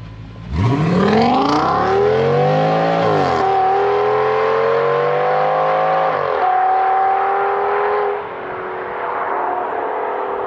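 An Audi A8L with a 6-litre W12 pulls away hard from a standing start, its loud engine note rising steeply through the gears with brief dips at each shift before settling into a steady, strong cruise.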